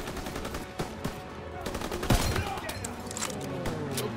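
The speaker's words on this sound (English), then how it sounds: "用 MG 在打我们" Machine gun fire in the World War II shooter Call of Duty: WWII, with a loud burst near the two-second mark among scattered shots and battle noise, under voices talking.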